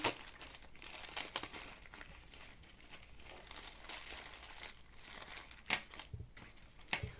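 Close, crisp crinkling of the thin plastic packet holding a BOYA BY-M3 microphone's foam windscreen being handled, with irregular rustles and a few sharper crackles throughout.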